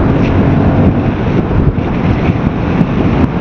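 Heavy coastal wind pounds a motorcycle rider's microphone on the road between Kanyakumari and Dhanushkodi, a steady, loud, rumbling roar with no voices.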